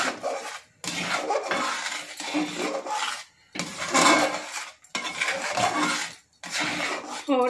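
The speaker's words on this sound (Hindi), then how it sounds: "आपको लगातार चम्मच को चलाते ही रहना है" A spoon scraping and stirring kheer in a pot, repeated rubbing strokes in bursts separated by short pauses, close and fairly loud.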